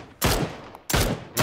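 Three sharp, loud gunshots ring out in PUBG, evenly spaced and close, each with a short decaying tail.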